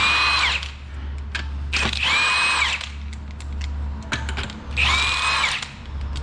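A power tool spins 19mm lug nuts off a Jeep Grand Cherokee wheel in three close, loud whirring bursts with short pauses between them.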